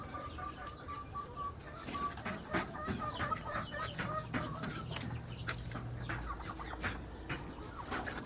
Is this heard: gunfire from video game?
no